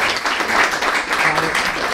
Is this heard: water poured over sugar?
no